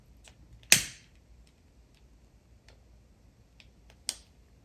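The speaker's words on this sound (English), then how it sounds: "before we light the candle, we're just going to clap. And that just disperses the energy." Two sharp hand claps sound in a quiet room as part of a tarot cleansing ritual, the first louder and the second a few seconds later, with faint small clicks between them.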